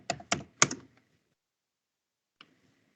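A few quick keystrokes as a password is typed on a computer keyboard, three close clicks followed by a pause and one lone tap, near and alone.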